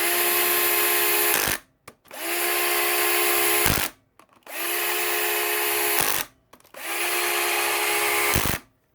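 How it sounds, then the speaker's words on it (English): A cordless drill driving screws into a 2022 Yamaha YZ125 motorcycle, four loud sustained whirring bursts of about two seconds each, separated by brief pauses, heard close with no talking. "I'll use this cordless drill right here."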